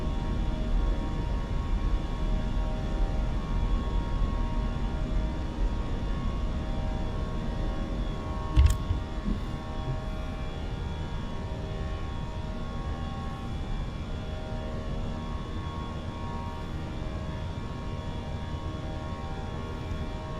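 British Airways A319 jet climbing after takeoff in a flight simulator, heard as a steady, loud engine roar and rumble with a single brief click partway through.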